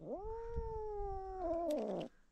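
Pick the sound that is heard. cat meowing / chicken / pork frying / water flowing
cat meowing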